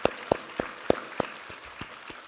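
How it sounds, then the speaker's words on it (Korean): Congregation in a church gives a round of applause, heard as a string of sharp, evenly spaced claps that ring out clearly at first and then thin and soften toward the end. "우리 하나님께 감사와 영광의 박수 올려드리겠습니다."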